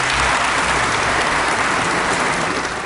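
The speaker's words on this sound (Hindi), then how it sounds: "ऑस्ट्रेलियाई संसद में तालियों की गड़गड़ाहट के साथ प्रधानमंत्री नरेंद्र मोदी का स्वागत हुआ" Sustained applause fills the Australian parliament chamber as Prime Minister Narendra Modi is welcomed, a dense, steady wash of clapping that holds loud and even throughout with no voices standing out.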